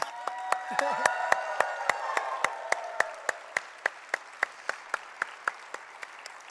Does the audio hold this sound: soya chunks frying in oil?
no